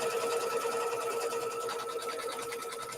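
Basic domestic sewing machine stitching fabric for a quilt string block, a steady close whirring hum running continuously without pause.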